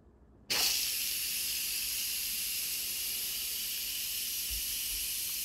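An Instant Pot vents steam with a sudden loud, steady hiss that starts abruptly and continues unbroken, close and alone, after making Hawaiian macaroni salad.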